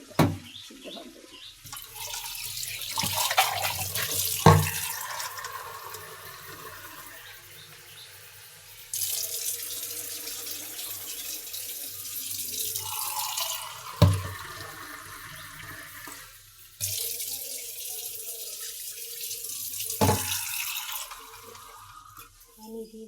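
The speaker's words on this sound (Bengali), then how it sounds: "পানি দিয়ে দিলাম, এখন সিদ্ধ হয়ে তারপরে বাস" Water pours into a pot of beef and potato curry in bursts, loud splashing rushes separated by quieter pauses with occasional clanks of utensils and faint voices in the background.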